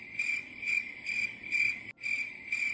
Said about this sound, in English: It's been crickets.